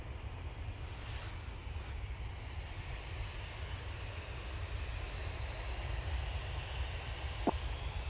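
A fixed-wing airliner takes off at Manchester Airport, its engine roar heard as a steady, fairly distant broadband rumble that holds throughout with no talking.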